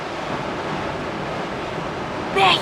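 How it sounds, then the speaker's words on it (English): Rough surf rolls in at Pennington Bay, a continuous broad wash of crashing waves mixed with wind buffeting the microphone, ending in a short burst of louder, brighter noise. "the waves are really, really rough"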